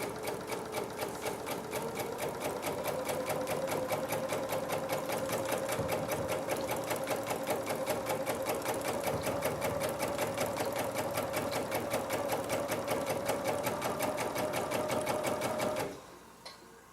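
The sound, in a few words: sewing machine stitching a fabric seam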